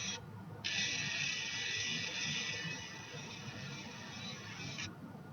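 A Gibson Min-ETune automatic tuner whirs steadily as its motor turns a guitar string peg, a close, thin mechanical buzz that runs for several seconds after a brief first burst.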